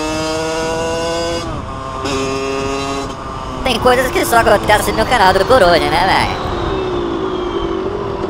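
An Aprilia 50cc motorcycle engine revs hard in a series of rising, buzzing bursts that hit the rev limiter, loud and close, with someone talking over the engine.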